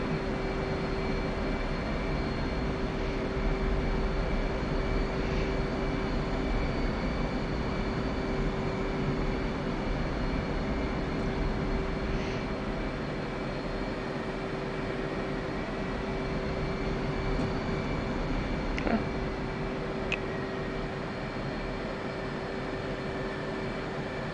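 A jet taxiing in the DCS flight simulator after a cold start, a steady engine whine and rumble with a constant tonal hum held throughout, even and loud, with a few faint clicks.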